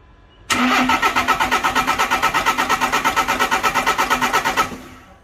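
The diesel engine of a VW Crafter under restoration cranks for about four seconds in a rapid, rhythmic chug, loud and close, then stops without catching.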